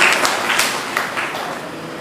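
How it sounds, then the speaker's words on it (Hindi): Clapping breaks out among listeners at a Ram Katha religious gathering, a bright crackle of many hands that starts strong and gently fades over two seconds, with no voice over it. "जोरदार तालियां"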